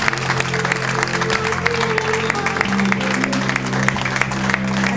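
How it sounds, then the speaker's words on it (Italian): A crowd applauds at an art event in Cutro, with continuous clapping over a steady hum from the room or a sound system, loud and unbroken. "vogliamo ancora fare un grandissimo applauso"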